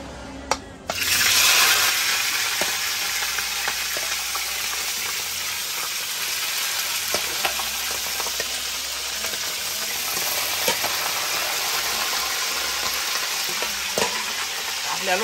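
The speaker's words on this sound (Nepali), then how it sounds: "अब तेल पाकिसकेको छ। अब म यहाँ मासु हाल्न गइरहेको छु।" Local chicken meat drops into hot oil in a pan outdoors in the mountains. A loud burst of frying erupts and then settles into a steady, dense crackle, with occasional stirring clinks and no talking.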